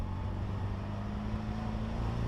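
A 1963 Austin Mini Cooper engine, a restored former race car with an uprated cam, idles steadily with a low, even rumble and a faint hum, no talking, continuous throughout.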